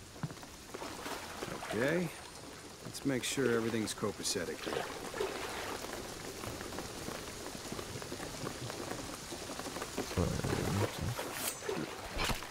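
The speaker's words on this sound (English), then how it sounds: "the rain is gonna flood this" Steady rain patters and hisses through a scene in the video game Shadow of the Tomb Raider, with characters talking over it and short bursts of louder splashing.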